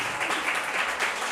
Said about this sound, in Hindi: तालियां बजा के परमेश्वर को स्तुति करेंगे